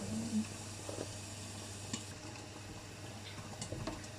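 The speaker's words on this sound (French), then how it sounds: "Donc là, il y a les carottes qui sont en train de cuire." Carrots and mushrooms cook in a pan for a pasta dish, giving a quiet, soft sizzle with scattered light ticks and small utensil taps over a low steady hum, close and faint.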